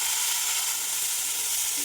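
Bitter gourd, potato and pumpkin peel hit hot oil already seasoned with five-spice seeds, producing a loud, unbroken sizzle throughout.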